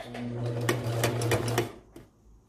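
Domestic sewing machine running a straight stitch on fabric for a baby bandana bib, a steady close motor whir with rapid needle clatter for about a second and a half, then stopping, followed by faint handling clicks.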